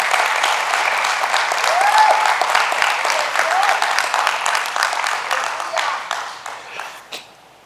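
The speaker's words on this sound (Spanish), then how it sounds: "Denle un fuerte aplauso a Jesús por eso." A church congregation applauds in a dense, steady wash of clapping that holds for several seconds, then tapers off with a few last scattered claps. A brief vocal whoop rises above it.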